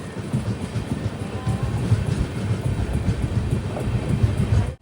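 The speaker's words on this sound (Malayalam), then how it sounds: "ട്രെയിൻ ഇപ്പോൾ കടലൂർ പോർട്ട് ജംഗ്ഷനിലേക്ക് ഇതാ എത്തുകയാണ്" The Jan Shatabdi Express rolls into Cuddalore Port Junction, heard from inside as a continuous low rumble with faint rhythmic clatter, steady throughout until a sudden drop at the end.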